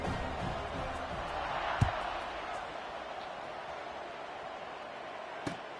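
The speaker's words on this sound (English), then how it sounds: "this crowd is buzzing after that last score" Stadium crowd in College Football 26 buzzing after a score, a steady distant roar of many voices with a couple of sharp thuds, heard beneath a commentator talking.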